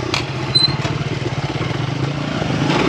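A farm motorcycle's engine chugs in a rapid, steady pulsing rhythm while riding down a steep hill on a mountain-top enduro trail, close and fairly loud, with a couple of sharp clatters and no talking.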